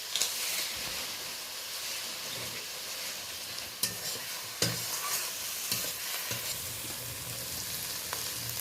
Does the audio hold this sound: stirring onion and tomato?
yes